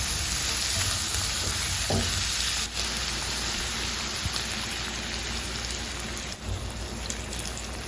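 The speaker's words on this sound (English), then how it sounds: "And we're just going to saute this for at least 5 minutes." Bell peppers sauté in a pan for jerk chicken rasta pasta, an even, constant sizzling hiss with a couple of faint clinks, close and steady, with no one talking.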